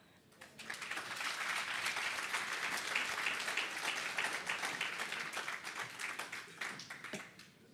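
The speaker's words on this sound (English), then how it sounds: "I think she deserves another round of applause." A round of audience applause at a sustainable energy conference session rises quickly, holds steady and fairly distant for several seconds, then tapers off, with little talk.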